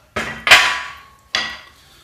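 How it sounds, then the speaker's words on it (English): A drilling hammer strikes three times, loud and close, each ringing metallic hit trailing off: two blows in quick succession, then a third after a short pause. "This is just a drilling hammer."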